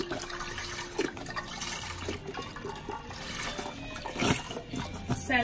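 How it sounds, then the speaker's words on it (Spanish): One litre of milk is poured into a pot in a home kitchen, giving a liquid splashing and gurgling fill with some clatter throughout. "Vamos a agregar en una olla 1 litro de leche."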